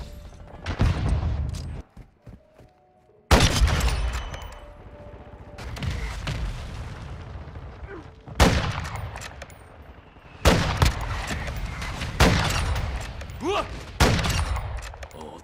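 Gunfire in the video game Modern Warfare 2, with rapid bursts of automatic fire and heavy single shots in several loud bursts separated by short quieter gaps, and some game speech mixed in.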